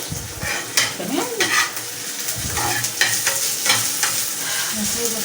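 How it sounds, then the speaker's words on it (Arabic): Peppers and garlic fry in a pan with a steady sizzle, broken by repeated clinks and scrapes of a utensil stirring against the metal, close by and without talk. "انا سايبة الفلفل ايه يتحمر براحته"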